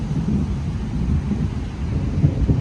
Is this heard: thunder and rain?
yes